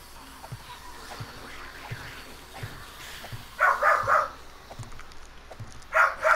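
A pit bull named Ozzy barking indoors in short clustered bursts, two loud rounds of rapid barks separated by quieter stretches with faint background thuds.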